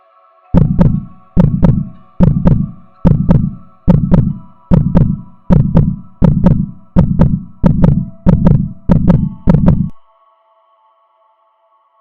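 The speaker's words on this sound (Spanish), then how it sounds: "lo único que podrían escuchar claramente es el latido acelerado de sus corazones" Rapid heartbeat sound effect, a dozen deep, evenly spaced thumps in a fast steady rhythm over a faint constant hum, loud and close, then stopping abruptly into silence.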